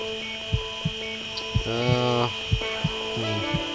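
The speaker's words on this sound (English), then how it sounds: "Drill." Surgical drill in the Surgeon Simulator 2013 video game, a buzzing electric whir that rises briefly in the middle over a steady hum, with soft periodic thumps throughout.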